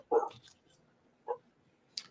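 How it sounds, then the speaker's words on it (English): A pet dog gives a few short barks and whimpers for attention indoors, spaced apart with quiet gaps between them, fairly close by. "You got a doggy that wants some attention."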